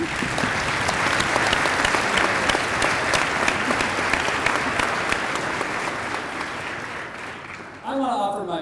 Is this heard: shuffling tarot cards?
no